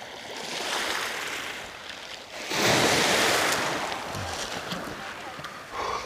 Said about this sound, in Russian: Вот только что не было ни одной волны, и вот появилась волна